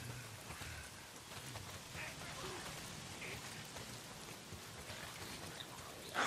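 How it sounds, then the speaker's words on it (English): Steady rain in the video game Days Gone, a dense, even hiss of falling drops that runs without a break and stays fairly faint, with no voices. "If it's not the freaks, it's the goddamn rain. Why is it always raining?"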